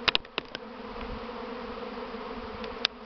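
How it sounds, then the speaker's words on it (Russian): A honey bee swarm leaves the hive and moves into a swarm box, a dense, steady buzz of many bees with a few louder individual bees zipping close past. "наблюдается, как переходит рой с улья в раевню прямо"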